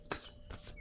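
A playing card is drawn from a deck: a quick, faint papery slide and flick, two soft brushing strokes close by in under a second.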